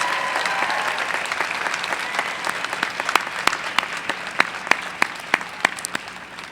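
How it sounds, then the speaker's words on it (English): An audience at a university commencement honors convocation applauds, with steady clapping from a crowd in a large hall and some sharp individual claps standing out near the end. "one more round of applause for Martín Alberto Gonzalez."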